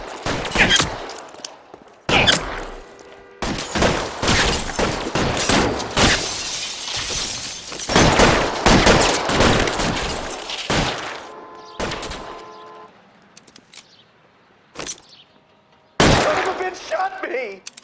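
Gunfire from the video game L.A. Noire comes in loud, dense bursts of rapid shots and impacts, with gaps and sharp single cracks toward the end, and game voices talking in between.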